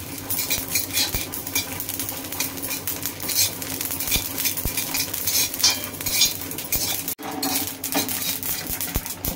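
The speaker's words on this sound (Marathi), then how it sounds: "आता आपण याच्यामध्ये हे काळे तीळ भाजून घेतोय." Black sesame seeds dry-roast in a hot pan that already held chillies, with repeated scraping and stirring clinks of a utensil against metal over a faint crackle.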